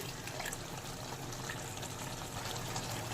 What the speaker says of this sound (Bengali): এবার দেবো ঝোলের জন্য কিছুটা জল।